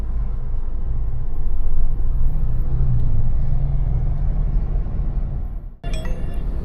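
A road traffic jam on the Pune to Hubli highway gives a steady, close, low rumble of idling and creeping vehicles, broken by a brief dip near the end.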